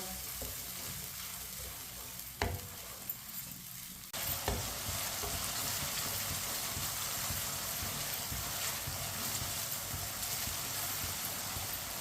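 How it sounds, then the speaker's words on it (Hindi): Chopped tomatoes cook in a frying pan for an Aloo Matar dish, a sudden steady sizzle starting partway through with occasional stirring scrapes, loud and close, continuing unbroken after a quieter opening. "टमाटर को भी 2-3 मिनट के लिए पका लेंगे।"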